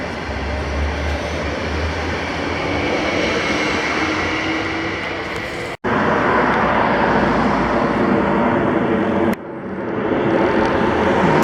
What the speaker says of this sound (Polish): To samoloty im latają.